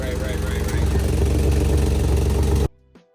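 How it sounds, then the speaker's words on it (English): An Infiniti G35 with an exhaust leak idles in a steady, loud, close rumble that cuts off abruptly near the end. "It's got an exhaust leak."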